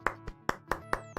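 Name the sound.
golf clap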